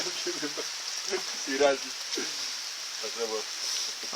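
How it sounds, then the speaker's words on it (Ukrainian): Warm rain falls with a steady, crackly hiss throughout while people talk quietly underneath it. "дощик тепленький паде."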